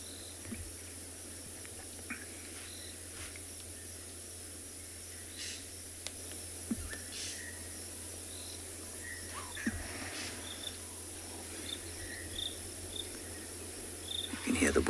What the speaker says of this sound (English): The crickets are calling.